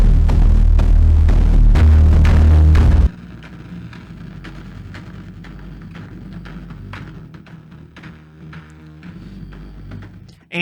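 The aggressive 'punish' effect of Heavyocity's Oblivion Aggression Designer produces a loud, dense, distorted throbbing roar for about three seconds, then cuts abruptly to a much quieter, gritty textured tail.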